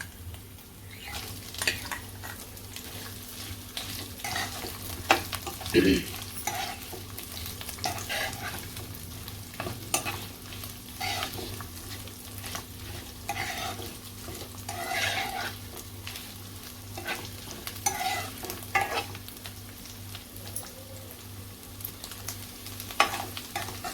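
Boiled potato pieces sauté in ghee in a pan for sabudana khichdi, a soft, steady sizzle broken by repeated scraping stirs of a spoon against the pan, close and quiet with no talking.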